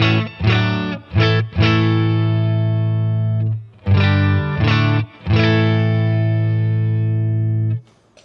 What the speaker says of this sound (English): First, I'll show you the Mark II